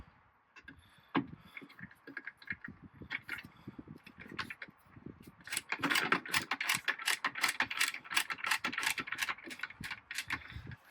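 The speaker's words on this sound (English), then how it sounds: "it's a Milwaukee multi-bit tool with two-way ratchet" A Milwaukee multi-bit screwdriver with a two-way ratchet clicks in rapid bursts, sparse at first, then a dense, fast run of close ratcheting ticks, with no talking.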